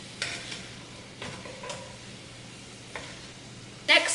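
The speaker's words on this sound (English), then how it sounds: "I'm just gonna mix this together now and saute it until the onion is translucent" Onion and garlic sautéing in a pan, a faint steady sizzle with a few scraping stirs of a utensil, quiet and close, ending in a brief louder clatter.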